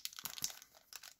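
Crinkling foil of English-language Pokémon XY booster packs being opened, a quick burst of sharp close crackles and rustles lasting about a second, nothing else audible.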